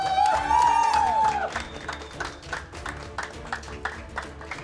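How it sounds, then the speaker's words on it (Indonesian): Audience applause and cheering for magician Robby Constantine at a stage magic show, breaking out after a bright musical sting and continuing as dense, steady clapping from a large crowd. "sekali lagi kasih tepuk tangan yang luar biasa untuk Robi Konstantin"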